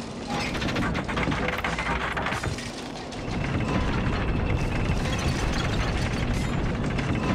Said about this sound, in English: Oh, elevator?